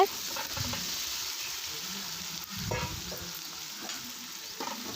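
One kilo of chicken fries in oil with a soft, steady sizzle, interrupted by a few scraping stirs of a spatula against the pan, low in level and without speech.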